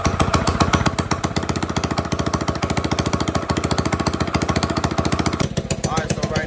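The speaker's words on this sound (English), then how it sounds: "once I wrap it around like this, I can just pull it and it should start right up" A small minibike engine with a poorly tuned carburetor, pull-started, runs at a fast, steady putter. Rapid, even pulses stay loud and close throughout, with a slight change in tone near the end.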